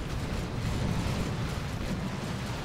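Dense, continuous rumbling blasts and crackling bursts in a Dawn of War 2: Retribution battle, Chaos Space Marines against Tyranids as Dark Flames and a Venom Brood explode under fire, loud and sustained with no pause.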